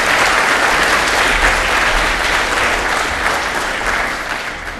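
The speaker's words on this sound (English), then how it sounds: "Let's give a round of applause for Piper." Audience applause at a Python programming conference talk on making games, a steady, dense clapping from a large crowd that holds loud throughout and tapers slightly at the end.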